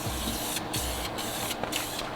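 An aerosol spray tin of paint hissing onto an engine rocker cover in bursts, several close, steady sprays separated by short gaps, with no talking.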